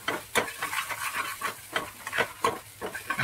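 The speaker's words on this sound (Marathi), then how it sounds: "त्याला एकदा अजून व्यवस्थित असं परतून घेऊया." Sabudana khichdi with crushed peanuts being stirred and sautéed in a pan: a soft sizzle under repeated scraping strokes of a spoon against the metal, close and fairly quiet.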